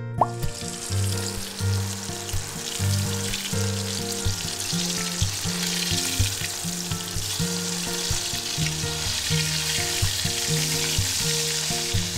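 Pieces of katla fish fry steadily in hot mustard oil, a dense continuous sizzle with occasional louder pops and stirring clinks, close and without speech.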